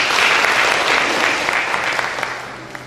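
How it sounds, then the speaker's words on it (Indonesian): Crowd applause at an official gathering of village heads addressed by a regional regent, close and loud steady clapping that gradually tapers over a few seconds. "luar biasa ini tepuk tangan"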